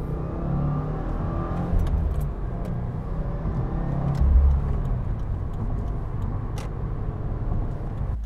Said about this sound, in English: Oh, I'm hearing the Audi.